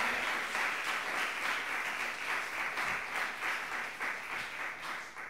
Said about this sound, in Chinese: 我们拍掌把荣耀归给神